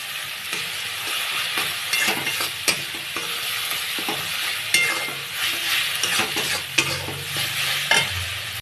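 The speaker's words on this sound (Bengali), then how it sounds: "হলুদ দেবো পরিমাণ মতো আদা দিয়ে দেবো আর একটু কষে নেব" Vegetables with turmeric and ginger are sautéed in oil in a pan, a loud continuous close sizzle with repeated scraping and stirring strokes and no speech.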